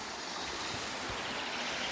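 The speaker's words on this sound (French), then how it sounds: "Là on a une petite cascade." A small waterfall gives a steady, dense rushing of falling water that fills the scene evenly throughout, with no voices.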